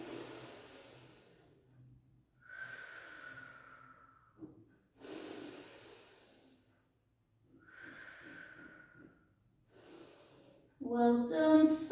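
Slow, audible breaths drawn in and let out during a barre workout, several long inhale-exhale cycles in a quiet room with faint background, ending in a brief louder burst.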